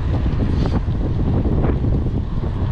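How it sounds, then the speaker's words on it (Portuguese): A south headwind buffets the microphone during an early-morning mountain bike ride, making a constant loud, low rumbling roar with gusty fluctuations and no pauses. "agora vento contra,"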